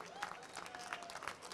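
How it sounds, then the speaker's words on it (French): Audience clapping at a charity event held by farmers, brief and lively, with scattered claps and crowd noise under a voice. "Ça s'applaudit, s'il vous plaît"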